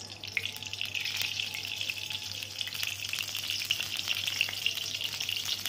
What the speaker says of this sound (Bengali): এবার কড়াইতে তেল দেয়া হলো